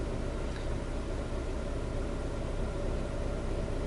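A car engine runs at steady idle with its revs settling, a continuous low, broadband rumble heard close and fairly quiet, with no voices over it.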